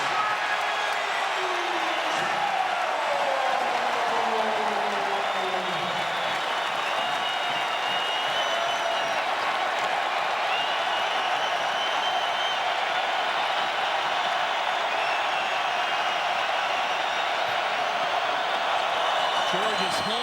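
A college basketball arena crowd roars and applauds after a dunk at a 2016 NIT game between Georgia Tech and San Diego State. The loud, steady wash of cheering fills the space while a commentator talks over it.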